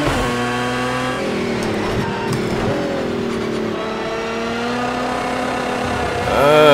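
GT3 race car in Project CARS 2 screaming at high revs, its engine note holding steady and shifting pitch through gear changes before climbing sharply at the end.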